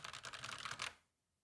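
Rapid clattering keystrokes on a mechanical computer keyboard, a dense run of close, crisp clicks for almost a second before stopping into near silence.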